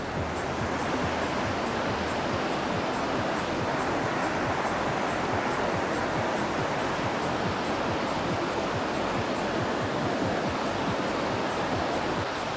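Stream rushing above the Kureklidere waterfall near Kestel, Bursa, a dense, steady roar of flowing water, loud and continuous throughout with no talk.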